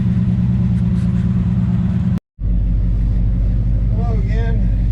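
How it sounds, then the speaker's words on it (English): Steady engine drone from inside a 1951 Chevy panel truck cruising around the block, broken by one brief cut, with a voice speaking over the rumble near the end. "Welcome back for our cruise around the block in the 51 panel."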